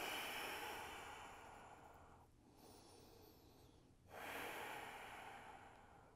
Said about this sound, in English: Take one more breath.